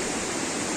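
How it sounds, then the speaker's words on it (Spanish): A small waterfall on the Pisque river in Ecuador, a steady dense rush of falling water, close and loud, with no voices. "miren esa pequeña cascada"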